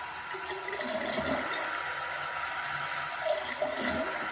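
A D5 pump pushes water around a PC water-cooling loop, a Thermaltake Pacific PR32-D5 Plus on an i9-14900 build. It makes a steady, soft rush of trickling, bubbling flow with no voices.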